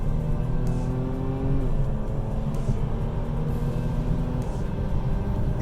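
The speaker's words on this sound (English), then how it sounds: "Downshifting, here we go." A 2012 Audi S5 engine drones steadily on a highway, its pitch dropping as it downshifts and then climbing again under acceleration, with constant road noise throughout.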